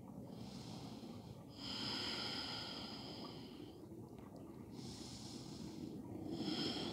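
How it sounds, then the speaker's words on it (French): Slow, audible breathing during a prenatal yoga leg stretch in the second trimester, with two long airy breaths, each drawn in and let out, close and soft over a quiet room. "Et on respire."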